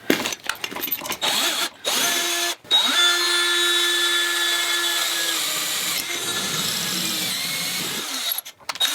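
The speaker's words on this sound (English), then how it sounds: "put this like this, and then drill this all the way through" A power drill bores through copper in short bursts, then holds a sustained whirring run before slowing and stopping, with a few sharp clicks around it.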